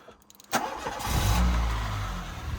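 A 1999 Renault Clio 1.4 petrol engine cranks briefly and catches after a full service, then settles into a steady, fairly loud idle close by with no voices.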